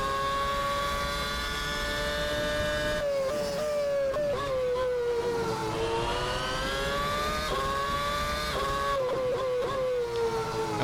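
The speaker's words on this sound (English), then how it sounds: "flat on the throttle straight away, no issue" A McLaren MP4/22 Formula 1 car engine howls in Assetto Corsa, its high-pitched whine climbing through the revs, dropping at gear shifts and rising again, loud and close.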